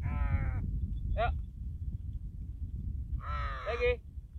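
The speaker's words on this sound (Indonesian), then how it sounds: "hebatnya Gagak ini kalau main bareng dia bisa ngikutin" A crow gives three harsh caws, a longer one at the start, a short clipped one, then a louder hoarse call near the end, fairly close over a rumbling background.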